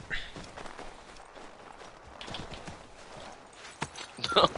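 Horse hooves clip-clop in Assassin's Creed III, a quieter patter of steps that grows into louder, sharper strikes near the end, with a brief whinny-like tone and a voice faintly present.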